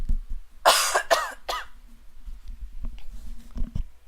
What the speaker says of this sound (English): I gotta cough